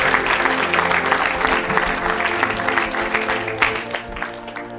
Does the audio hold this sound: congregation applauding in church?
yes